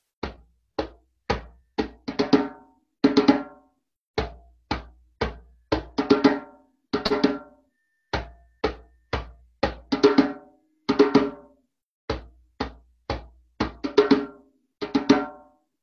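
Four deep bass tones for a street chant verse, played as short plucked notes in a steady repeating pattern of groups, close and clear with no voices.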